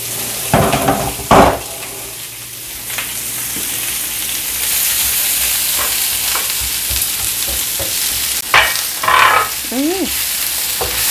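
Onions sizzling in olive oil in a wok, a steady loud frying hiss throughout with a few scraping stirs and utensil clinks near the start and end.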